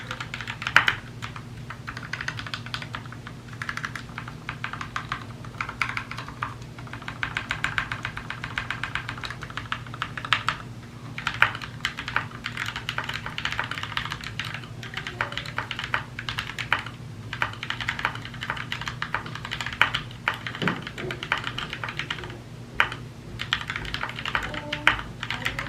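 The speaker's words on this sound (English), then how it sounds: "Now let's go ahead and do a typing test and see how it sounds." Fast continuous typing on a modded Glorious GMMK mechanical keyboard with painted, lubed, snipped and band-aid-modded switches, a dense run of steady clacky keystrokes close up with a low hum beneath and no talking.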